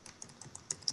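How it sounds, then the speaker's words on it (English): Typing on a computer keyboard: a short burst of about seven crisp, irregular key clicks, close and fairly quiet, with no talking. "What the fuck are you typing?"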